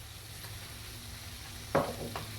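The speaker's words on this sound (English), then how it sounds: "And then in goes our fish with all the juices." Fish pieces with their juices tip into a hot pan for Mauritian fish vindaye, giving a sudden burst of sizzle that settles into a steady frying hiss over low kitchen background noise.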